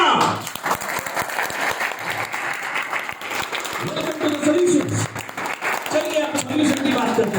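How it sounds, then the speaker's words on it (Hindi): An audience at an office training session in India claps in a loose, spread-out round of applause, with voices talking and murmuring under and over it throughout. "तालियां"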